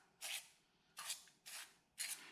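A spray can fires four short hissing bursts with brief gaps between them. It is spraying into a cylinder during honing on a boat engine from a 1972 14-foot Alumacraft row boat, and the bursts sound close against a quiet background.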